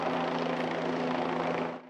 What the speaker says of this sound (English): a state police helicopter surveys this wooded area